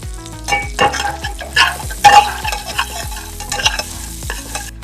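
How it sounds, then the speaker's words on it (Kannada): One to two spoons of butter melt in a pan while a utensil stirs and scrapes, loud and close, with irregular clanks and a soft sizzle beneath; no voices. "ಅದೇ ಬಾಣ್ಲಿಗೆ 1-2 ಸ್ಪೂನ್ ಬೆಣ್ಣೆ ಹಾಕೋತಿದೀವಿ"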